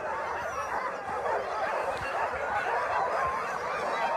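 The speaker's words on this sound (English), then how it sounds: "You can really hear the excitement of the dogs." Excited sled dogs at the start of a sled race bark, yip and howl together in a continuous dense chorus with a constant outdoor crowd-like wash.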